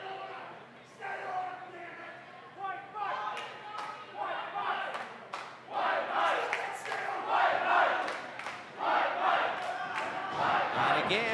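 Indoor wrestling crowd at a tag team championship match, rising cheers and chants that swell louder toward the end, mixed with thuds from the ring and voices calling out.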